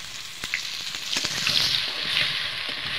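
Potato pieces sizzle and fry in hot oil in a wok while being stirred, a continuous bright crackle with a few scraping clicks of the utensil, close and fairly loud.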